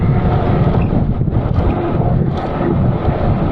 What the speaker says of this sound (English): Oh yeah, it's really windy.